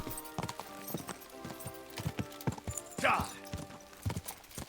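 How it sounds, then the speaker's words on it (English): Hooves of a horse in Kingdom Come Deliverance 2 clip-clop in a steady rhythm at close range, with a brief burst of noise partway through and a voice talking over parts of it. "Let's go, little horsey."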